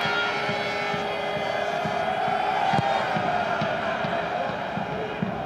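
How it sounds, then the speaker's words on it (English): Football stadium crowd at an England versus Turkey international, a steady dense roar of many voices cheering and chanting throughout, distant and continuous without a clear peak. "It's got the crowd going."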